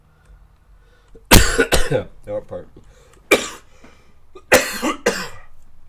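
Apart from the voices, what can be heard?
coughing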